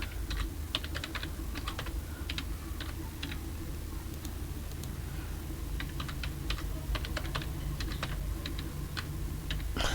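Steady computer keyboard typing while registration details are entered, with quick bursts of light, close key clicks separated by short pauses over a constant low background hum.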